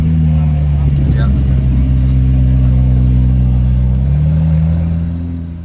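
A McLaren Senna supercar engine runs steadily with a deep low drone and a slight rise in revs, continuous and fairly loud nearby, fading toward the end as the car drives off.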